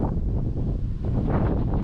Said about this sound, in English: Very windy now.